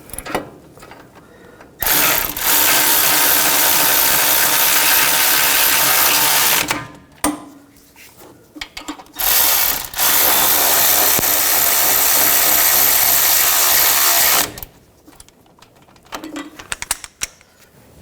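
A powered ratcheting tool driving brake caliper bolts on a 2014-2020 Nissan Rogue runs in long loud buzzing whirrs, two extended bursts with a short pause between, followed by quieter metallic clicks and taps.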